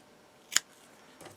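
Scissors trim yarn ends on a small knitted Christmas tree ornament with a bead, giving two short crisp snips about a second apart, close and clear in a quiet room.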